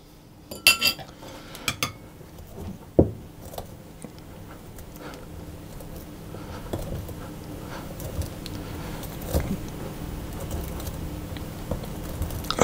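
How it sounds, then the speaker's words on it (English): A pastry cutter works chunks of butter into flour for flaky scones, giving soft scattered clinks and dull taps on a bowl, louder and sparser at first and then a steady low rustle of mixing, with no talking. "I'm going to use a pastry cutter, and I want to have some chunks of butter left."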